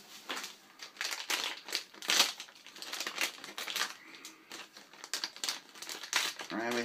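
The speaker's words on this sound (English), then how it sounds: "let's rip this one open" Cardboard and foil packaging of a Marvel Spider-Man Vinylmation blind box gets torn open with close, irregular crinkling, ripping and rustling bursts, and a voice speaks briefly alongside.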